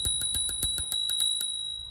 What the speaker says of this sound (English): Front and rear brakes, and even an impressive little bell.